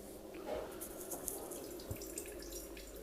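Water flowing as a Bonavita BV1800 coffee maker starts to brew, a steady close trickle and hiss with faint drips, no talking.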